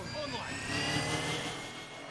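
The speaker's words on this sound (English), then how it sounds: "I'm gonna pull the drone. Recon drone." A recon drone in Call of Duty DMZ hums and whirs steadily at close range, a continuous buzzing engine tone with faint voices underneath.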